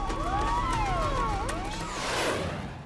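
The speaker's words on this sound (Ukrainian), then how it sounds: "Нічну тишу струшує завивання пожежних авто." Fire engine sirens wailing at night outside a nuclear power station after explosions, several overlapping rising and falling tones held steadily throughout, moderately loud over a constant background rumble.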